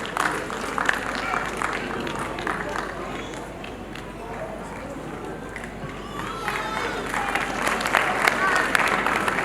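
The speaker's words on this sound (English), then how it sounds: "Please put your hands together as he is the subject topper in accountancy" Audience clapping at an annual day celebration fills the hall for an honoured accountancy topper, a continuous, fairly loud wash of hands with faint voices and movement beneath, swelling again near the end.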